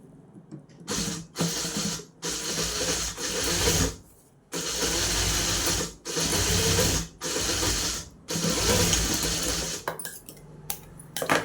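A sewing machine stitches a side seam in a string of rapid mechanical bursts, about seven runs of loud clattering separated by short pauses, heard up close with no talk.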